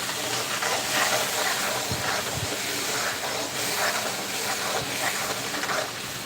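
Spices roasting in a pan over a medium flame for an onion- and garlic-free dum aloo, giving a dense, steady hissing sizzle at an even loudness with a couple of faint low knocks, no talking.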